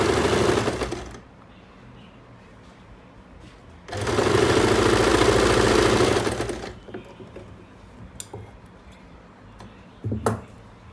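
Leftover fabric pieces are stitched together on a sewing machine in two loud, fast bursts, a short one at the start and a longer run mid-clip, with quieter handling clicks and rustles between.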